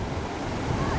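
Ocean surf rolls steadily onto Pantai Karan beach at Natal on the west coast of Mandailing, a continuous broad wash mixed with wind rushing over the microphone.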